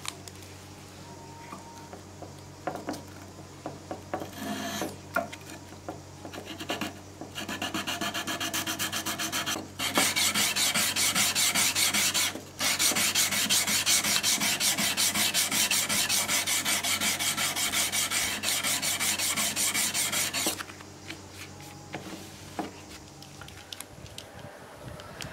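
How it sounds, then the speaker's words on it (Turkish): A handmade bushcraft knife blade is hand-sanded with 360-grit sandpaper, giving close, continuous rasping strokes that grow louder and denser in the middle stretch before easing back to lighter rubbing. "Son olarak 360 kum zımpara yapıyorum."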